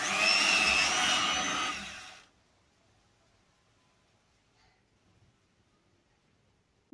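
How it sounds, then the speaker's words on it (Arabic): An electric hand mixer whips cream in a bowl for a caramel cake, a loud steady whir lasting about two seconds before cutting off into near silence. "غادي نجيب الميكسور وغادي نميكسيها مزيان حتى تولي كريميه"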